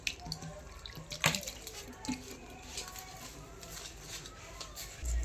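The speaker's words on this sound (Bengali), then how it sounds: "এবার একটু অল্প অল্প করে জল দিয়ে এটাকে ভালো করে মেখে নেবো" Water is poured a little at a time into flour dough being kneaded for naan puri, with close splashes and wet trickles in short uneven bursts and soft handling noises between them.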